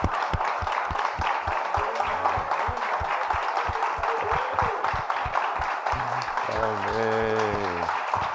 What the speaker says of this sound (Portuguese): todos nós, aplaudamos essas mulheres